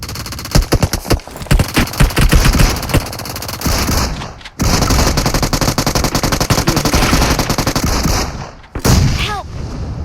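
Loud, rapid automatic gunfire rattles in dense bursts during a PUBG match on the Sanhok map, with brief pauses between volleys.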